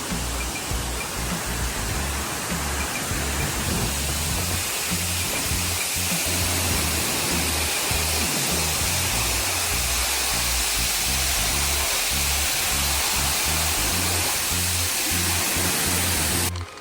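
A broad, steady roar of rushing water, continuous and fairly loud, like a waterfall heard from nearby, with no voices.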